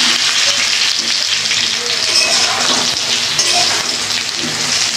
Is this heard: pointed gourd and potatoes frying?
yes